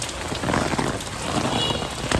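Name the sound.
rain falling during a walk in Plaka, Athens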